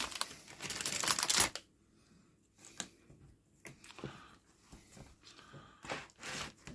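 Crinkly foil-bag handling with a dense rustling burst, then sparse light clicks and rattles as plastic sprue frames from a Zvezda 5050 URAL-4320 Russian truck model kit shift inside the packaging; close and quiet, with no talk.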